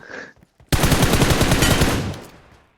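A sustained burst of automatic gunfire from PUBG Mobile, rapid close shots running for over a second and then trailing off, preceded by a brief voice.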